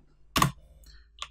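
Keys clack on a Mac keyboard as a Flutter command is typed: one sharp cluster of strokes, a short pause, then a few quicker taps, close and dry in a quiet room.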